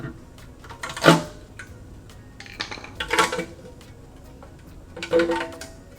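Metal clanks ring out as the oil pan and gasket come off a Toyota Supra's 2JZ engine. There are three separate bursts of clattering metal with quiet gaps between them, heard close up.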